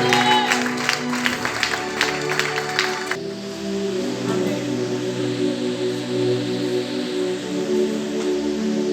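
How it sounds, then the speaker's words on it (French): A church congregation claps and cheers in praise for a few seconds, then the applause fades into a lingering crowd murmur with voices in the room. "On acclame le Seigneur"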